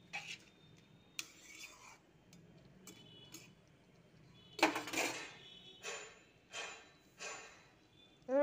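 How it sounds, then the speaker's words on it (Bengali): Ginger and chopped vegetables being stirred in a pan, heard as scattered utensil clinks and scraping bursts that come and go at moderate, fairly quiet levels. "এখানে আদা আর এই সবজিগুলো দিয়ে দিলাম, দিয়ে একটু নাড়াচাড়া করব।"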